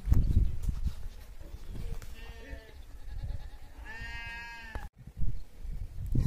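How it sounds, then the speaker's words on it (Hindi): Goats from a mountain village bleat in a few wavering calls mid-distance, heard over outdoor background noise with a person talking nearby. "गांव के बकरे जाने वाले हैं गोर में, चले गए देखो"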